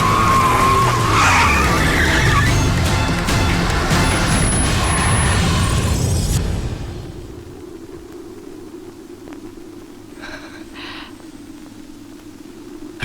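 A car skids toward a ravine, its tires shrieking loud and continuous for about six seconds before dropping away to a low rumble and faint wind.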